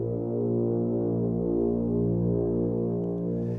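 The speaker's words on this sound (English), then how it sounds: "when the contrabass tubas play together, they sound like this." Several contrabass tubas sustain a deep, low chord together, a steady, rich drone with slight wavering swells that holds for a few seconds.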